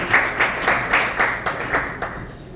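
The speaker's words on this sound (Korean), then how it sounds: "박수로 환영해 주십시오." Audience at a Christian press forum clapping to welcome a pastor to the stage, a short run of fairly regular, rhythmic claps at moderate volume.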